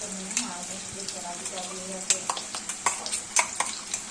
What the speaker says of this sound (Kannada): ಈ ಪೇಸ್ಟ್ ಕೂಡ ಹಾಕಿ ಇದನ್ನು ಚೆನ್ನಾಗಿ ಮಿಕ್ಸ್ ಮಾಡ್ತಾ ಫ್ರೈ ಮಾಡ್ಕೋಬೇಕು